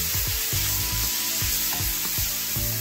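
Pumpkin and sweet potato gluten-free gnocchi sizzle loudly in a pan, with a dense continuous frying hiss broken by repeated soft stirring and shuffling knocks, close up and with no talk.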